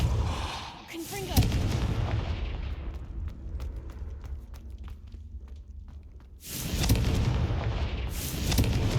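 Confringo fire spell explosion in the video game Hogwarts Legacy, a sharp booming blast followed by a decaying rumble with crackling debris, then another heavy burst near the end.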